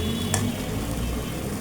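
Mustard paste frying in a pan: a short, steady sizzle with a brief scrape of stirring near the start, close and fairly loud.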